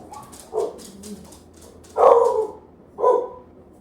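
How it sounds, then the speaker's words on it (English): A dog barks at a neighbor's dog indoors, three separate barks spaced about a second apart, the last two louder, against a quiet room. "She does not like that neighbor dog."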